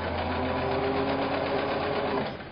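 A sewing machine stitches a log cabin quilt block, running as a steady, continuous motor hum with a fast rhythmic needle chatter that stays close and loud for the whole stretch before easing slightly at the end.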